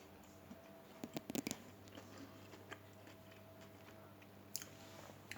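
Homemade chocolate crunches as it is bitten and chewed close to the mic, with a quick cluster of sharp, crisp snaps followed by faint ticks in an otherwise quiet room.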